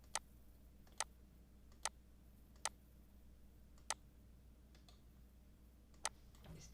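Computer mouse clicks while digitizing points, lines and polygons on a map, six sharp isolated clicks at uneven intervals over a quiet background hum, no speech.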